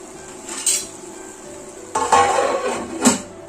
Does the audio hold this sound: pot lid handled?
yes